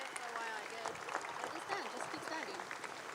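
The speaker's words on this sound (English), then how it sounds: "Will you give them all a huge round of applause and encouragement to" A graduation audience applauds speakers and a singer, continuous dense clapping mixed with scattered cheers and chatter, steady and moderately loud throughout.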